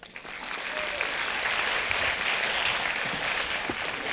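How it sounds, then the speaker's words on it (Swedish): Audience at a book fair gives warm, sustained applause, a continuous wash of many hands clapping from a large crowd, steady and moderately distant with little talk. "Clarence och Kristina, en varm applåd."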